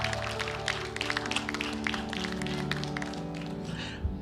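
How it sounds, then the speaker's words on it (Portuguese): A church congregation claps hard together during a Portuguese-language sermon, a steady dense patter of many hands with music-like tones sustained underneath, fading near the end. "Você pode juntar a mão na outra e aplaudir bem forte?"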